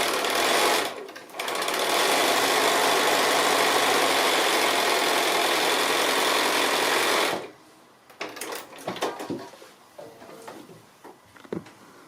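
A sewing machine stitches a seam through fabric in a long, steady, loud whirring run of about six seconds. It stops abruptly, followed by faint handling noises.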